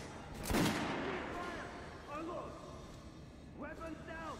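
A single sharp gunshot on a shooting range in the Metro 2033 game rings out early and fades into echoing reverb, followed by voices speaking over faint background ambience.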